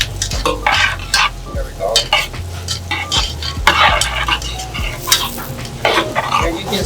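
Onion and mushrooms fry with salt in a pan, a loud close sizzle broken by repeated scraping stirs of a utensil against the pan; a voice briefly says a couple of words.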